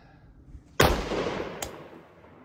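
A 6.5 Grendel rifle with a 16-inch barrel fires one sharp, loud shot that booms and decays over about a second, followed by a fainter second report.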